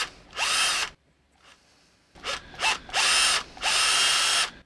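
A power drill whirs in short bursts, spinning up and stopping several times with brief pauses between.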